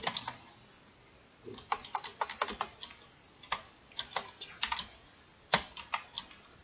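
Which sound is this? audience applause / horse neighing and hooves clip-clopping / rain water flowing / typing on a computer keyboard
typing on a computer keyboard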